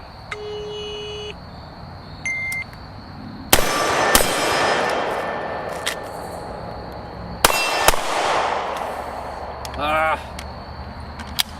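Rifle shots from a SIG MCX conversion AR build at a range, ringing a steel gong: two sharp loud cracks with bright metallic ring-out, amid smaller clinks, with brief talk in the background.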